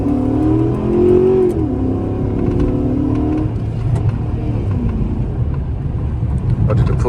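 A Chrysler 300C V8 engine revs and accelerates hard, a loud rumbling roar that climbs in pitch then steadies, close by with no talking.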